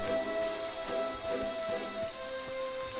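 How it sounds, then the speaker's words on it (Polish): Steady rain patter falls across a video game scene, a continuous hiss with scattered drop ticks and a faint sustained musical tone, fairly loud throughout with no talk. "O, deszcz pada. Deszcz pada."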